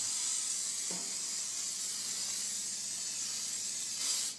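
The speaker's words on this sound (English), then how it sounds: "I take my olive oil, I spray the chicken really well." A steady, close hiss of olive oil spray on a chicken runs for several seconds without pause, with a faint low hum beneath and no voices.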